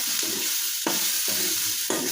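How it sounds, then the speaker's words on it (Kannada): A ground mixture fries in oil with a steady sizzle, broken by a scraping stir roughly every half second, close and clear, with no talking. "ಇದು ಮಿಕ್ಸರ್ ಮಾಡ್ಕೊಂಡಿದ್ಮೇಲೆ ಇನ್ನೊಂದು ಸರಿ ಎಣ್ಣೆಗೆ ಹುರ್ಕೋಬೇಕು ರೀ"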